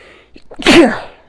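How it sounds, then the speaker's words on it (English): A single loud sneeze, with a short sharp intake of breath just before the forceful burst, close to the listener. "I hate when I have to sneeze"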